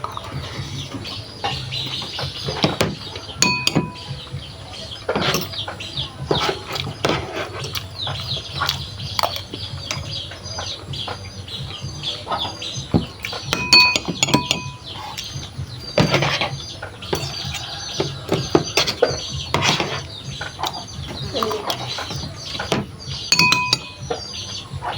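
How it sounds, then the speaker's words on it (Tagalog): A fork and spoon clink against a plate during a meal, with scattered light metallic taps at an irregular pace over a busy room background that includes some chicken clucking. "nakatinidor tayo at nakakutsara"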